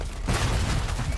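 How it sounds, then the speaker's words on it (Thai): Starfield video game gunfire crackles as a dense, steady burst of shots, loud and continuous across the clip. "ใครยิงผมอ่ะ"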